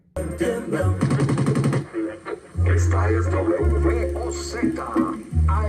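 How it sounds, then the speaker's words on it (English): A loud track with heavy bass and vocal sounds, punctuated by bursts of rapid gunfire-like effects mixed into the song. "What's the point of having gunshots, bro?"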